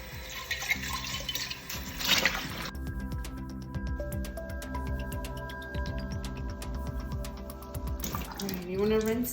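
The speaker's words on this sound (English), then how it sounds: "and rinse it under cold water." Cold tap water runs steadily through a strainer of sprouted buckwheat, a continuous close splashing stream with dripping and shifting as the grains are rinsed, while a person talks over it.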